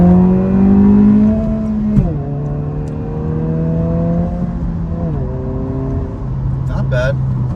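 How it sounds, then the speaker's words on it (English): A 2023 Honda Civic Si accelerates in second gear, its engine drone rising in pitch from inside the cabin, then easing and climbing again after shifts, with a short voice heard near the end. "Second gear on the gas."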